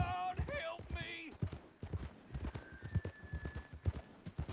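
Horse hooves clip-clopping in Red Dead Redemption 2, a rhythmic run of hoof thuds at moderate distance, with a voice speaking briefly over the start.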